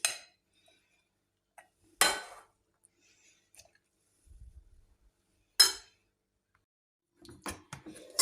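Bean salad being moved onto a serving plate, with a few sharp, isolated clinks of utensils on dishes separated by near silence, plus soft shuffling handling noises in between.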